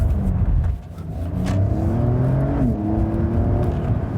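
A 2020 Porsche 911 Carrera S of the 992 generation in Sport Plus mode revs hard on a wet track, its engine note rising and shifting through steady loud pitch sweeps across a few seconds, heard alone without talk.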